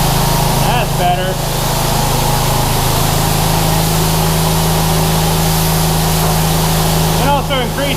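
A pressure washer engine runs steadily while cleaning a shipping container, a constant close hum and hiss throughout, with a person's voice briefly heard near the start and again at the end.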